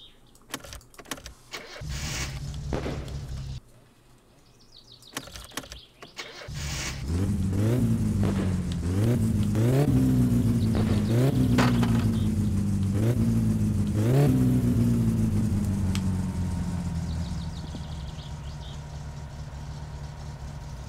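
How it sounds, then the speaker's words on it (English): A car engine in My Summer Car cranks and catches, then revs hard several times in quick rising bursts before settling toward a rough idle, loud and close with no talk. "let's see if she starts"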